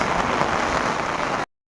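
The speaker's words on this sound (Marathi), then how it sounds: "खतरनाक पाऊस पडल्यामुळं पाणी पण खूप वाहतंय" Heavy rain falls with water running everywhere, a dense close roar that holds steady and then cuts off abruptly.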